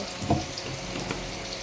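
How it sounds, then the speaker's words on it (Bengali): Boiled vegetables poured into a strainer basket to drain, a quiet splashy water rush with a brief louder pour near the start, no talking. "সিদ্ধ করা সবজিগুলোকে ঝুড়ির মধ্যে ঢেলে নেব।"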